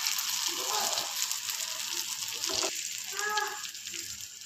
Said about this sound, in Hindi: अब हम अंडे को फ्राई करेंगे